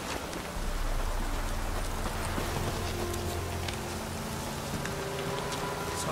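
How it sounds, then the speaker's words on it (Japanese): Steady rain in The Witcher 3 video game, a constant broadband hiss of falling drops with low rumbling ambience underneath, continuous and fairly loud throughout with no talking. "雨か。"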